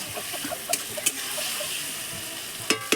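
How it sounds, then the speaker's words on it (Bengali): Potatoes are stirred into spiced gravy in a pan, with a steady sizzle under repeated soft scrapes and taps of a spoon, close and moderately quiet. "এবার জলটা একটু আস্তে আস্তে নাড়লে এই আলুটা দিয়ে দিলাম"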